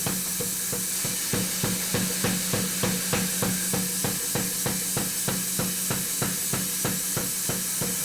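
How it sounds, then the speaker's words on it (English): A mastersmith's power hammer pounds a knife blade, tapering the belly edge down toward sharp at the forge, striking in a fast, steady, evenly spaced rhythm throughout, loud and close with no talk. "here he's forging down the belly part of it, getting it as close to sharp as possible using the power hammer, just tapering down that edge"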